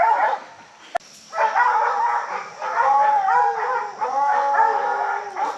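Several hunting dogs baying and howling at a treed raccoon outdoors, long overlapping bawling cries that swell and repeat loudly after a sharp click, with a brief lull between bursts.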